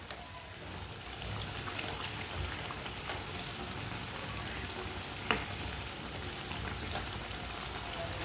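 Chicken and spinach shami kebabs fry in a pan with a steady, soft sizzle and crackle, a continuous hiss broken by a faint pop now and then.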